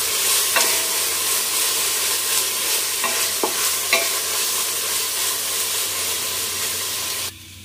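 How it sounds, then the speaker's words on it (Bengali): Ginger garlic paste frying in hot oil for beef korma gives a loud, continuous close sizzle, with a few sharp scraping stirs, before stopping abruptly near the end. "আদা রসুন বাটাটাও তেলের সাথে ভাজা করলে কাঁচা ফ্লেভারটা চলে যাবে"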